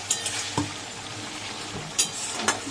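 Coriander leaves are stirred into bean paturi frying in a pan, a steady close sizzle broken by a few scraping clicks of the spoon against the pan, with no voices.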